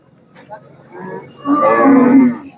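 A bull at the Lasur bull market lets out a loud, drawn-out moo that swells and fades, with a shorter lowing sound just before it.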